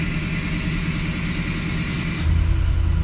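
A diesel truck engine runs at raised RPM with a loud, steady low drone and a high whine, its low rumble swelling heavier near the end of the short stretch.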